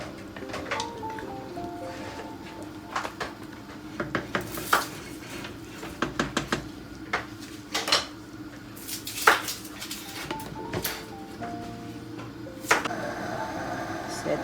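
Beef caldereta is stirred in a metal pot, with a spoon repeatedly knocking and scraping the sides in irregular clanks, while people talk intermittently in the background.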